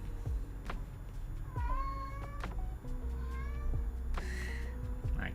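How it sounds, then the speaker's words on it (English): A pet cat meows repeatedly nearby, several drawn-out, rising and falling cries in a needy rhythm, loud and close with brief pauses between calls. "My cat is being needy right now"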